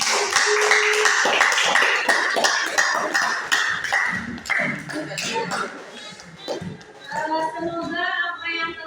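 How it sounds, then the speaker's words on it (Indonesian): A classroom audience applauds a student presenter during a teaching-practice lesson, with a burst of scattered, uneven hand claps close by, thinning out toward the end as voices and shuffling take over. "Silakan kita berikan aplaus dulu untuk yang telah tampil."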